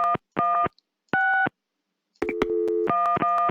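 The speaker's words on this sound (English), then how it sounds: "let's use the phone and call the numbers" A telephone in the Gabriel Knight 1 video game sounds short repeated electronic tones in separate bursts with gaps between, then a quick run of dialing beeps and more tones, clean and close.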